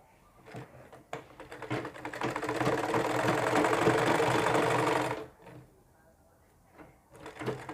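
A sewing machine stitches buckram for a sleeve in a ladies' arm design, running as a loud, close, steady mechanical whir for about four seconds after a few short clicks, then stopping.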